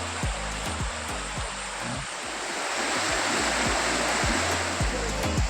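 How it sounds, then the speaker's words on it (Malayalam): Monsoon-swollen Vettilappara Cherupuzha, a river stream that joins the Chaliyar, rushing steadily as a loud, dense wash of flowing water that swells slightly louder partway through, with low rumbling thumps underneath. "ഇതാണ് വെറ്റിലപ്പാറ ചെറുപുഴ കേട്ടോ"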